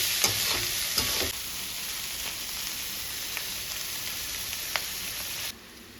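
Steady, close sizzling of vegetables sautéing in butter for vegetable pulao, a dense even crackle with a few brief stirring scrapes near the start, no talking.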